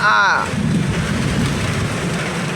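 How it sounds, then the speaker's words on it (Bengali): Heavy rain pours down in a steady, loud, dense roar, with a voice heard briefly at the very start. "দেখেন কত বৃষ্টি আসছে এখানে"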